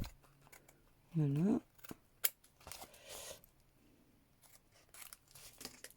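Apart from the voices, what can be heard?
scissors cutting excess off a coffee filter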